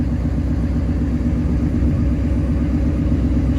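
A heavy truck engine running rough rumbles steadily at idle, low and close, with an uneven, lumpy throb throughout.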